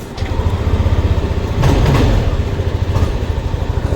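A Yamaha Nmax v2 scooter, recently unable to start and still showing a check-engine fault, fires up and settles into a close, steady low engine drone with a brief louder surge partway through.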